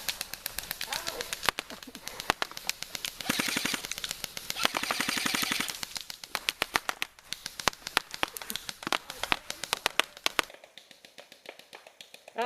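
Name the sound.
airsoft guns firing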